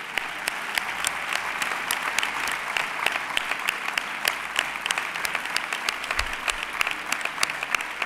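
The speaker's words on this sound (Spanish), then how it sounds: "Un gran aplauso. Un fuerte aplauso para ellos." A crowd at a sports awards gala applauds steadily for about eight seconds, a dense continuous clapping with sharper individual claps popping out near the front and no speech on top.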